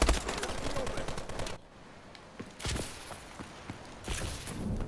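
Gunfire from Call of Duty Advanced Warfare: rapid automatic bursts come in loud clusters separated by quieter gaps, with a voice talking over part of the shooting.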